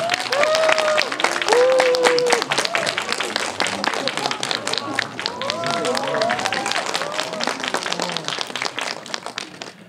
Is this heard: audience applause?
yes